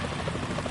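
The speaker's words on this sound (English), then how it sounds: "Is that a chopper I just heard?" A helicopter in Metal Gear Solid 2 gives a brief, continuous rotor thrum close overhead, loud and steady for under a second.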